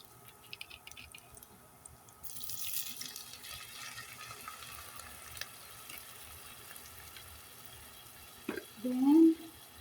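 Tap water running into a sink while cooking sweet and sour tuna, a steady hiss that gives way to brief splashing and a louder pour near the end, with faint frying and some talk around it.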